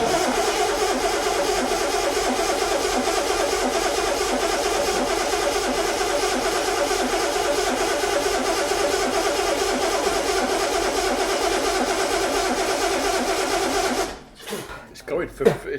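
A car engine cranks and runs at a loud, steady rough idle for about fourteen seconds before cutting out into sputters and knocks, with fuel pump trouble suspected.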